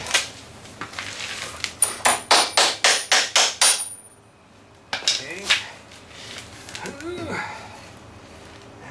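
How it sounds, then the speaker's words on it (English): A small hammer taps out about eight quick, evenly spaced strikes while mounting a snow blower on a 110 TLB, followed by a pause, then faint muffled voices and rustling close by. "Give me my little hammer, squeeze me."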